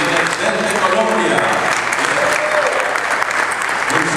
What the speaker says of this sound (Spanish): Un aplauso fuerte para las madres que presentes.